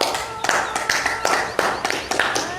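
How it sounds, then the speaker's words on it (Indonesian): Several people clapping hands in response to a call during an Islamic talk, a handful of loose, uneven claps at moderate volume with voices faintly behind. "Tepuk tangan."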